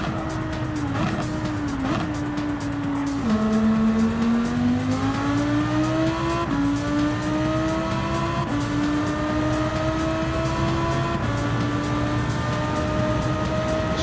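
Lamborghini, a mid-engine car, droning at sustained high revs in a racing video game, pitch sliding up and down through gear changes with faint tire squeal, loud and continuous.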